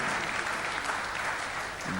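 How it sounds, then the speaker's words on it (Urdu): An audience at a mushaira, an Urdu poetry recital, claps in steady, continuous applause that fills the full two seconds at an even level, with a slight dip near the end. "ذرا تالی والی بجا دیجیے میں خوش ہو جاؤں"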